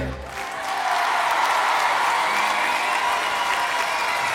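Studio audience applause on the French TV show L'École des Fans, a steady, dense wash of clapping that swells in after a moment and holds evenly throughout.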